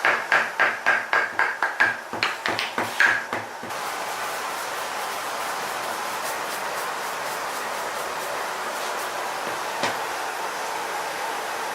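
Quick small taps of a chisel against a carved block, a rapid regular series of sharp knocks up close, then giving way to steady broadband noise.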